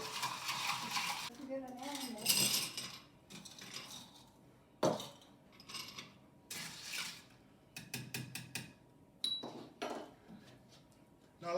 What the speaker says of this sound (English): And we're just going to do a little stir.